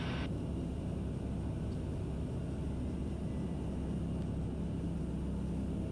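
TBM 850 turboprop airplane climbing after takeoff, heard from inside the cabin as a steady, even low rumble and hiss of engine and airflow, constant and moderately loud with no talk.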